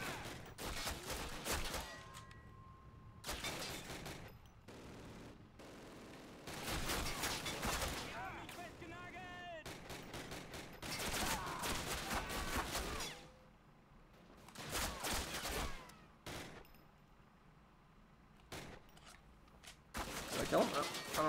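Gunfire in the World War II shooter Call of Duty, rapid bursts of rifle and submachine gun shots with heavy booms, crackling in dense clusters and pauses while a player talks over the action.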